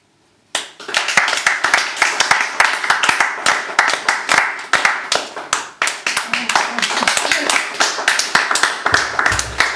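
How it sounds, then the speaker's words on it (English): An audience claps after a poetry reading at a live show. The hand claps are dense, sharp and close, running for nearly ten seconds and thinning slightly near the end. "More applause, please, for liz12"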